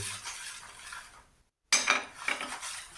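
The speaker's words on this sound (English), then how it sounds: "So I'm just gonna mix it in." Pumpkin pudding mixture stirred in a bowl, with a utensil scraping and clinking against the sides in steady close strokes, broken by a short silent gap before the stirring resumes.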